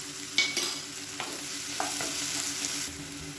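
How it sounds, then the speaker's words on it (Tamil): Onions sautéing in a pan for South Indian idli sambar, a steady soft sizzle with a few scraping stir clicks against the pan, close and alone without talk. "வெங்காயம் நல்லா வதங்கி வச்சு"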